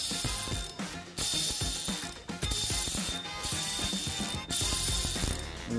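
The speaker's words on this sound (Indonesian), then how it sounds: "Mari dengar bunyi drag 4000 mesti lagi kuat kan." Drag clicking from a Seahawk Tarantula size 4000 aluminium-handled spinning reel with 7 kg drag, a loud rapid ratcheting buzz in several bursts separated by short pauses, close up with no talking.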